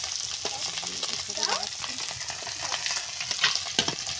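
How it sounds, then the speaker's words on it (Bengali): Koi fish frying in hot oil makes a steady crackling sizzle at close range, with brief scraping stirs and a faint voice in the background. "এখানে কই মাছ ভাজা হচ্ছে"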